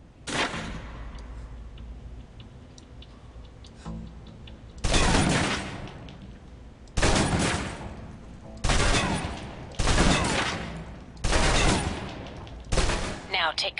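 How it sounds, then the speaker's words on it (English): A submachine gun in the video game Alpha Protocol empties a full clip. After a quieter stretch, five or six loud rapid bursts of automatic fire follow one another with short gaps between them. "Now, let's move on to the submachine gun. Now let's empty the clip."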